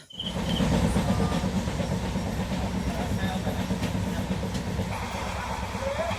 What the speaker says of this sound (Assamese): তো ট্ৰেইনত উঠিলোঁ ঘৰলৈ বুলি গুৱাহাটী পল্টন টু চাপৰমু জংচন